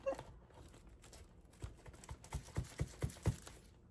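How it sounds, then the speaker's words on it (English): A quick series of soft, muffled knocks on a sock stuffed with paper, about eight in a row, close by and quiet against faint background hiss. "Y'all hear me knocking"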